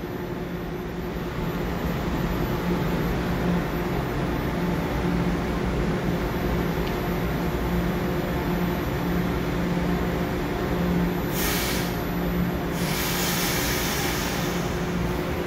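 Ten-car EMU900 local electric train, set EMU907, passing by as a steady, loud broadband rumble that holds evenly throughout, with brief hissy bursts near the end.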